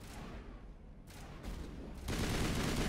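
Sustained gunfire from Mass Effect Legendary Edition combat, shots aimed at the Mako vehicle, a dense broadband barrage that thickens and grows louder toward the end.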